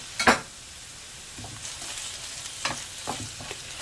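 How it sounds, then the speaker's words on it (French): Mushrooms cook in a pan for a tomato sauce, heard as a soft, low sizzle with a sharp clatter near the start and a few light scraping stirs afterward. "il y a mes champignons qui sont en train de cuire"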